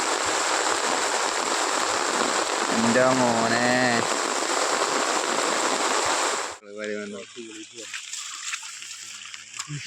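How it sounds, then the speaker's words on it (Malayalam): Heavy rain pours in a dense, loud roar for several seconds, then cuts away to quieter surroundings as a person speaks. "മഴ പെയ്യുന്നതുകൊണ്ടിരിക്കുവാണ്. ഭയങ്കര മഴയാണ് ഗൈസ്."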